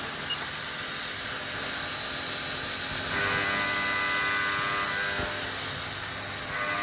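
A Haas VF0 CNC mill spindle turns at 6,000 RPM while machining a part, giving a continuous, even high whine with a constant level throughout.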